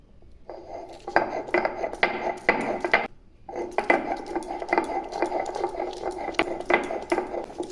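Sliced ginger, a spoonful of poppy seeds and four green chilies ground into paste on a stone, giving a steady rasping scrape in repeated strokes, close and fairly loud, with one short pause partway through.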